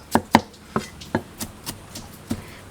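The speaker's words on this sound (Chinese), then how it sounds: "凉拌少不了的就是蒜， 切一下" Garlic being chopped with a knife on a cutting board, about eight sharp chops in an irregular rhythm, close and clear, the first few loudest, with no talking.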